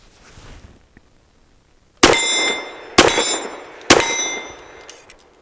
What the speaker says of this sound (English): No issues in the clear drop.